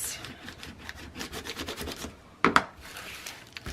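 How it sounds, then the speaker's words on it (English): Adhesive backing is burnished down onto a fabric book cover with steady, close rubbing strokes, punctuated by two sharp taps near the end. "Now I'm going to take that backing off, and we're going to burnish it down."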